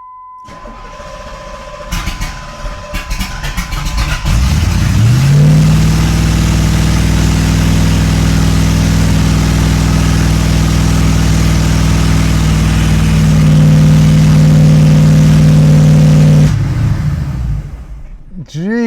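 A 1991 Pontiac Trans Am GTA engine cranks and fires up, then settles into a loud, steady, high idle close by. A voice is heard just before it starts, and the engine cuts off near the end.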